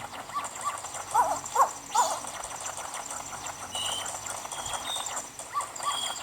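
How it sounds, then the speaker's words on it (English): A dog in The Legend of Zelda: Majora's Mask, played on an Anbernic RG353V handheld, gives a few short, mid-loud barks over steady game music with chirping bird-like tones. "Oh, the dog."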